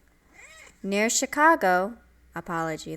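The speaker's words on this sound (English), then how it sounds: "that's my cat" A house cat meows once faintly near the start, then a person talks over it at close range in an indoor room.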